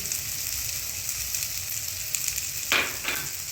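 Poha with cooked vegetables, salt and turmeric fries in a pan while being stirred. A continuous close sizzle fills the clip, with a couple of louder scraping stirs near the end.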